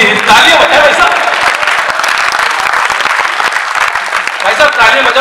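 An audience at a comedy poetry gathering breaks into sustained applause, dense and steady throughout, with a few voices calling out over the clapping.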